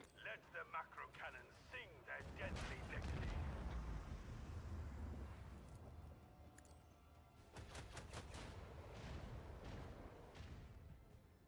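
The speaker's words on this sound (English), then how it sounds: "Let the macro cannons sing their deadly litany." Macro cannons fire in the video game Warhammer 40k: Rogue Trader with a heavy rumbling barrage of booms and crackling blasts, then a rapid volley of sharp shots near the end, while a person talks over it.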